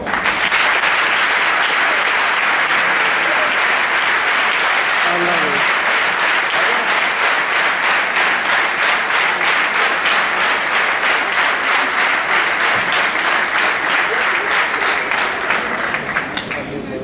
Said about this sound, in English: I request from you an applause worthy of a true Ravian